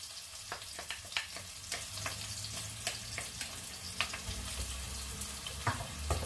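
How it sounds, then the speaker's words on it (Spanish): Onion and garlic fry with salt in a pan, making a soft, steady sizzle with scattered faint crackles and pops, quiet and close. "Y ya lo dejamos aquí, que se vaya pochando la cebolla."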